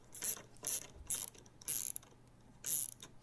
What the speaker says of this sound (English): I'm going to use this little thumb drive or finger drive. This is a ratcheting one too.